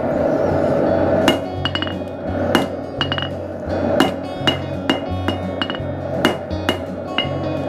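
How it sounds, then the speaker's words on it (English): A blacksmith hammers a steel bar straight at the forge, sharp ringing metal strikes arriving at an irregular pace of roughly one or two per second, each clang decaying quickly over a low background roar. "I'm just gonna straighten up my bar of steel."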